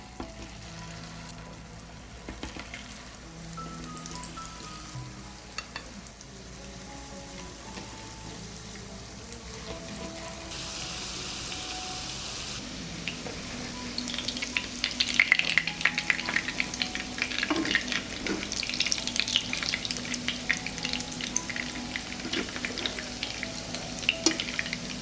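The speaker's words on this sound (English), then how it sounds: "I put the burgers on the heated oil and fry them for 3 minutes on both sides." Burger patties fry in hot oil in a pan, giving a close, continuous sizzle and crackle that grows louder and busier partway through.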